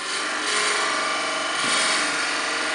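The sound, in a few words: drill bit boring on wood lathe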